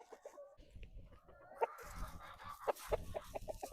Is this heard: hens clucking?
yes